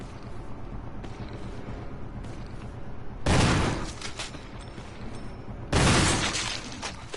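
Two loud, broadband gunshot blasts a few seconds apart fired at an enemy's head in the video game Resident Evil, over a steady low in-game ambience.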